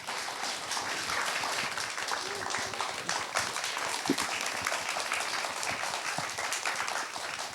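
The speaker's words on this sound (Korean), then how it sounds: "박수 부탁드립니다." Audience applause fills the hall at the opening ceremony of a Korean literature festival week, a steady dense clapping sustained throughout as the planning committee comes onto the stage, with a few scattered louder claps.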